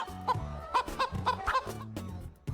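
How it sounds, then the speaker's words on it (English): A hen clucks in quick, choppy bursts, close and fairly quiet, a series of short rhythmic clucks with brief pauses between them. "Hen. Hen."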